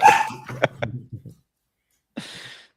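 A dog barks in several sharp, loud bursts close to the microphone during a podcast recording, followed by a pause and one more short bark.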